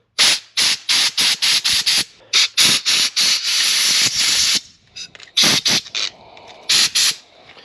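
Compressed air sprays in a string of sharp hissing bursts while tire and brake parts are blown out, mixing short rapid blasts with a few longer steady hisses, loud and close by.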